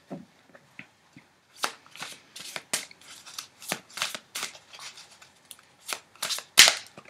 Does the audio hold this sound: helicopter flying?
no